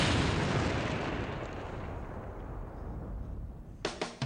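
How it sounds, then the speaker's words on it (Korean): A Bouncing Betty landmine goes off in one huge, broadband blast that roars at full loudness and slowly decays over several seconds, ending in a few sharp, crackling aftershocks. "그러면 주요 폭발물들이 터지게 됩니다."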